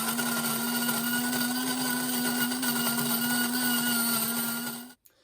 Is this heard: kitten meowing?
no